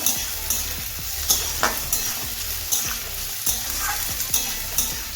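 Capsicum, potato and carrot fry in oil for a spicy semolina upma, a continuous close sizzle with regular spatula strokes scraping the pan about once a second.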